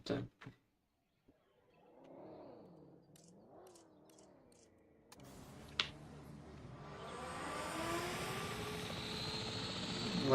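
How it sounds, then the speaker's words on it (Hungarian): A helicopter in the video game Jurassic World Evolution 3 swells in, a whirring engine drone that builds into a loud, steady rotor roar after a few short clicks and a brief tonal sweep. "Jöhet a helikopter."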